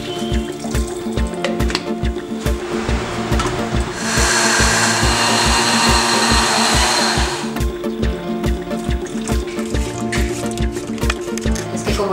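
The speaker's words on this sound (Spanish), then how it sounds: "La pasamos a la licuadora y le echamos la misma agüita con la que se cocinó y licuamos esto para hacer la sopita." A kitchen blender whirs as it purées cooked ingredients with their cooking water into soup, a steady motor drone that swells into a louder, harsher blending burst midway before settling back.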